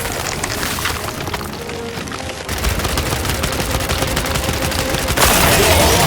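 Explosive blast and rapid gunfire in the Gears 5 video game, a dense, continuous barrage of shots and crackling impacts that swells louder toward the end.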